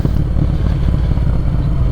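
A Yamaha Bolt motorcycle fitted with a Delkevic exhaust runs close by, a loud, deep, throbbing exhaust note with a steady rumbling pulse.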